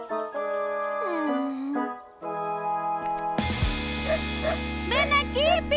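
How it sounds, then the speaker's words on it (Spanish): A small brown and white cartoon dog from Polly Pocket gives several short, high yips and barks in a quick series near the end, mixed with voices and cartoon music. "ladra si puedes oírme"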